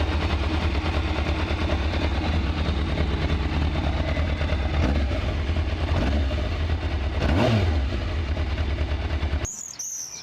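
A 1999 Yamaha FZS Fazer 600 motorcycle on its original exhaust idles up close in a steady, even rumble with no talking, ending in a brief clatter.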